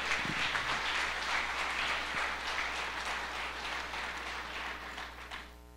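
A church congregation applauds steadily for several seconds in a dense, even wash of clapping that tapers slightly toward the end.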